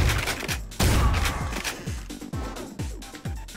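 Rapid gunfire in the video game Ion Fury: a steady volley of loud, booming shots about every half second, each with a low decaying thud, continuing without pause and with no voices.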